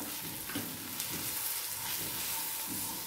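Mutton masala and turmeric stirred into hot oil in a pan, frying with a soft continuous sizzle and hiss, with faint scrapes of the spoon now and then, close and fairly quiet, no voices.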